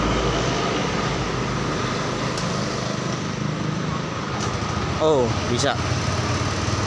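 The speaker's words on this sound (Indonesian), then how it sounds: "Coba kita hidupkan pakai kickstarter." A Yamaha Mio 125 injection motorcycle with a new battery that keeps dying runs after a kick start, a steady close engine hum throughout, with someone speaking briefly over it.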